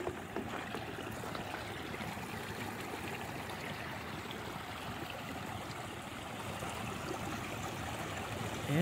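Water flowing beneath ice outdoors in winter, a faint steady trickling and gurgling rush that continues evenly with no voices.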